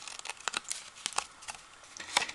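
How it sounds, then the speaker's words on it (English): Small fussy cutting scissors trim card paper in close, quiet snips and crinkles, irregular little cuts spaced across a couple of seconds. "I'm going to take my little fussy cutting scissors. I'm going to trim this extra off."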